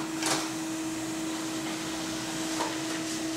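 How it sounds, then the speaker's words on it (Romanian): An office printer in a retail back-office setup runs with a steady mechanical whir and a constant tonal hum, with faint clicks near the start and again later, at moderate level and without talk. "Este ok, a pornit imprimanta."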